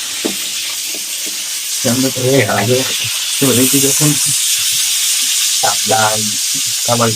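Oil sizzles loudly and steadily in a frying pan, a close continuous hiss, while people talk over it.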